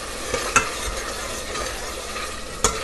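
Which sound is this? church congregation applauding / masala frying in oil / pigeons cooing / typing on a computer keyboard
masala frying in oil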